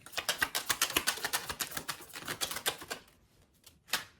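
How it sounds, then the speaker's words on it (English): A deck of tarot cards is shuffled close by, a fast patter of crisp riffling snaps for about three seconds, then a pause and one last brief flutter, with no talking. "So as I'm shuffling"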